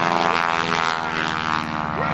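A barnstorming aerobatic airplane's propeller engine roars as it accelerates, a loud sustained drone with a rising, throaty tone and no talking.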